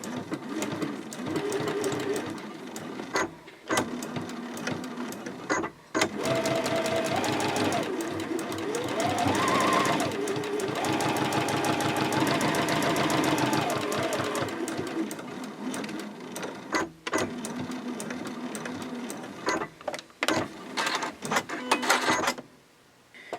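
A sewing machine runs in long steady bursts, stitching a quarter-inch seam with backstitching on a small Christmas stocking, with brief pauses between runs and no talk over the motor.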